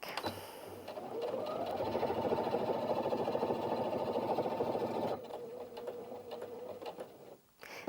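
A Brother Innovis NV1350 sewing machine stitches through four layers of fabric, a steady close mechanical whir running for about four seconds and straining slightly, then stopping, followed by softer handling clicks.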